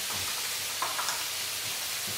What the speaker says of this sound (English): I'm just browning these squid off really quickly here.